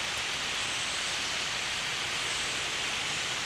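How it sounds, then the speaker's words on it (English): Thousands of starlings and blackbirds flying overhead, a dense continuous hiss of wingbeats much like steady rain, even and unbroken throughout. "It sounds like rain, but it's starlings."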